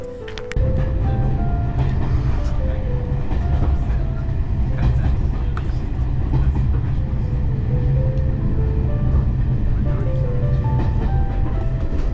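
A steam train on a Scottish heritage railway runs steadily, its wheels clattering rhythmically along the track under a continuous low rumble, with a few faint whistle-like tones and some voices in the background.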